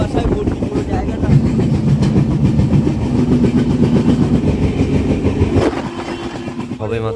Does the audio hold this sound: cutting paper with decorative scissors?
no